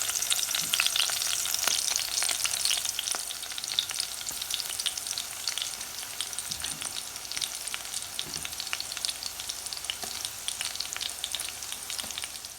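Battered wild garlic flowers frying in hot oil give a steady, close crackling sizzle with scattered pops and bubbling throughout, and no voices.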